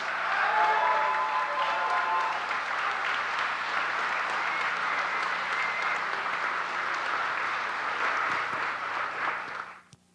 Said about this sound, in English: A big round of applause for all of the winners.